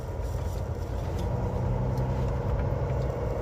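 Tractor driving on a snowy road with tire chains on one axle, heard as a constant close engine drone with a low rumble and no talk.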